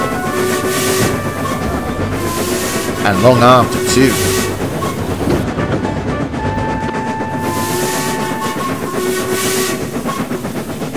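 A loud steam locomotive whistle blasts over rumbling train noise, with a person speaking briefly over the clatter.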